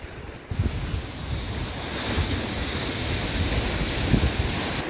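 Stormy sea waves crashing onto the shore in Odesa, a dense continuous roar of surf mixed with heavy wind buffeting the microphone, steady and loud throughout with a few stronger surges; no talking.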